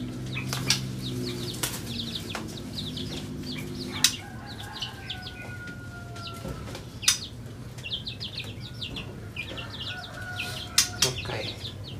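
Chickens clucking and birds flapping their wings in bursts in a rooftop aviary, with chirps and a rooster-like call among rustling.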